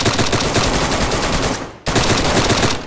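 Rapid automatic gunfire from the video game DayZ while shooting another player: a loud, sustained burst of shots that briefly cuts out near the middle, then resumes at full intensity.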